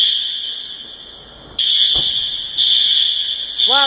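Fire alarm blaring indoors near a parking garage, a loud steady high-pitched tone that cuts out briefly and resumes in pulses, with faint background noise and a short whoosh underneath.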